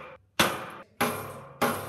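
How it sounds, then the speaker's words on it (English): A hammer strikes pins into an aluminum truss while a basic truss tower is being assembled: three sharp metallic blows in slow succession, each ringing briefly before fading, close and loud with no talk. "Now I'm going to go around and hammer each one."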